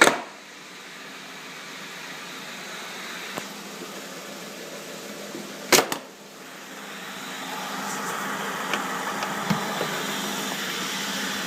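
A 2012-or-newer Jeep Wrangler's 3.6-liter Pentastar V6 idles steadily after a cold start, a constant low engine hum with a few brief knocks and clicks breaking through around the middle.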